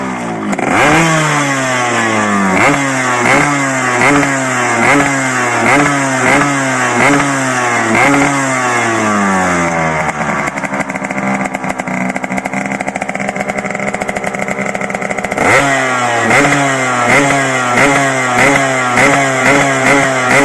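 A Yamaha RX King two-stroke motorcycle engine, upgraded with a Y1 oversize bore, revs loudly and close by in repeated rising bursts, then holds a steady high pitch for several seconds before the blipping resumes.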